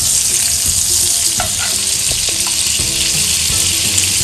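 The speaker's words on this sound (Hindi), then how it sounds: "अब इसमें हम थोड़ा सा बटर डाल देते हैं, बिल्कुल आधा स्पून।" Butter, about half a spoon, dropped into a hot pan of oil frying steadily, a loud continuous sizzle and crackle with brief stirring clinks, no voices.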